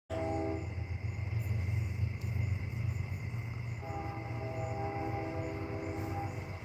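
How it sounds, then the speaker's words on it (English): A train rolls past outdoors on a clear night, a steady continuous rumble of rail cars with sustained horn tones sounding over it, moderately distant and without talk. "Can you hear the train?"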